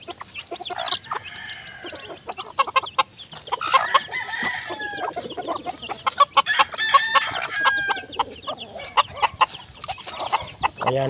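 A mother hen with six chicks clucks busily during feeding, with chicks peeping and a rooster-like call mixed in, in close, lively, overlapping bursts throughout.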